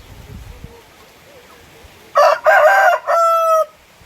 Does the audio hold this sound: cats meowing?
no